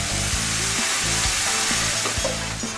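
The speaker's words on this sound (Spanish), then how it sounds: "ahora lo que hacemos es echar el tomate frito" Fried tomato sauce poured into a hot pot of one-pot spaghetti bolognese after the wine has reduced, giving a steady broadband sizzle over a repeating, tonal backing pattern throughout.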